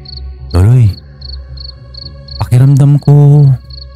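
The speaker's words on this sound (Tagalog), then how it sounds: "Ang tanging naririnig mo lang ay huni ng kuliglig at hampas ng hangin sa kawayan." Crickets chirp at night in a steady, repeating pulse near bamboo in a mountain setting, faint but constant, while louder tonal bursts twice rise over them.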